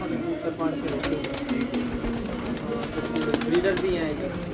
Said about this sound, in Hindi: कुछ ये छोटे कबूतर 5-6 रखे हुए